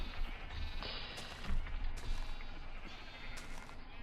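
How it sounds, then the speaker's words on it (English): Sheep in a crowded farm shelter bleat several times in quick succession, close and fairly loud, with a gray ewe and her black lamb among the flock and rustling movement between calls. "a gray sheep having a black baby, black baby sheep, black lamb"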